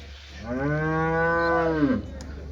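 A single long, loud cow moo with a rich harmonic tone, lasting over a second, rising then falling at the end, close by, at a cattle market in Chintamani.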